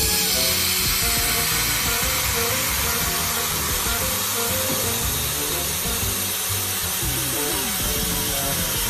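A Dapeng SUP21T 3-in-1 laser welding, cleaning and cutting machine slicing through a board, giving a continuous loud hiss and buzz with a rough, crackling texture that holds steady throughout, no speech.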